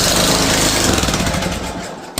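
A small 2006 zero-turn mower engine with a damaged motor, choked, runs loud and rough up close, its sputtering pulse wavering before stopping abruptly with a final pop.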